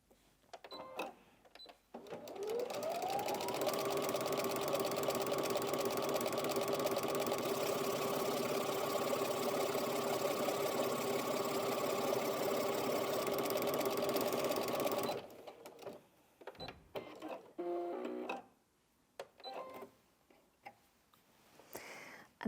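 A Brother Innov-is NV1850Q sewing machine runs a triple straight stitch in one long, steady, close mechanical whir of about twelve seconds, followed by a few clicks and handling noises.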